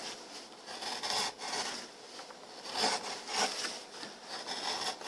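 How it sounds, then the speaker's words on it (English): Hand gouges carve a cedar fiddle plate, making soft, continuous rasping and scraping strokes close by at low volume, with slight swells in rhythm and no voices. "I've started carving it down, and I wanted to note the gouges I'm using"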